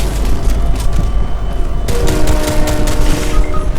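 A train rumbles past with a sustained roar and a tonal horn-like hum, loud and close, amid game sounds.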